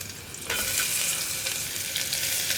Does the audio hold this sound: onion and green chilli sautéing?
yes